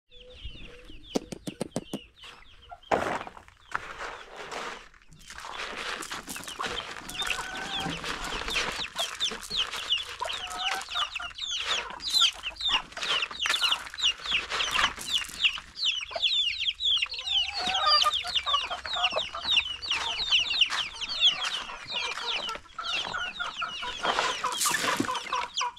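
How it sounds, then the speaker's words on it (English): Chickens cluck and call continuously while being fed in an African village yard, a busy, fairly close flock with steady overlapping clucks, some sharper squawks and brief wing flaps throughout. "So I'm just feeding these chickens here."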